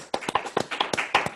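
Audience applause greeting a singer, a short burst of close, scattered hand claps with an uneven rhythm, loud and alone.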